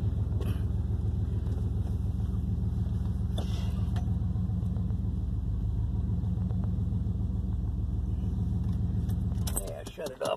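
A Chevy truck engine idling with a steady, rhythmic low rumble and a faint rattle, loud and close throughout, before it cuts off abruptly near the end amid a brief clatter.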